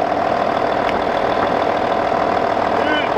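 A diesel car engine idles steadily and loudly up close in a junkyard, with a constant rumbling drone and no break in the sound.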